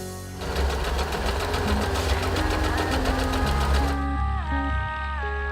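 An Usha Wonder Stitch electric sewing machine runs at a fast, steady rhythmic whirr and clatter for several seconds, close and loud, then stops.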